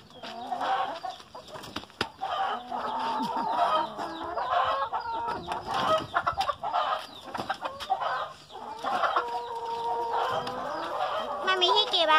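A flock of backyard hens clucks and squawks steadily at an egg collection by the nest, a busy overlapping chorus of close, fairly loud calls, with occasional wing flaps and a voice briefly in the background.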